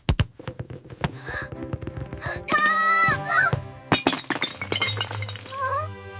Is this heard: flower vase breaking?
yes